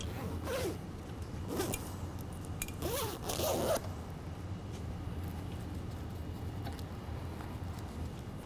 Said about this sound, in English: Now we'll zip everything back up.